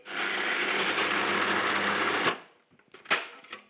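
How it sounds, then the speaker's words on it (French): A blender whirs loudly and steadily for about two seconds, blending pine nuts and sun-dried tomatoes for a red pesto, then stops abruptly, followed by a few soft clinks and handling knocks. "Avant d'ajouter l'huile d'olive, je vais commencer par mixer"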